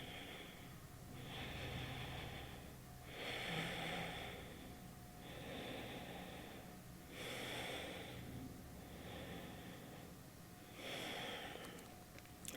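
Slow, rhythmic breathing during Kundalini yoga mantra practice: about six long hissy inhale-exhale cycles through the nose, close and soft, with no talk.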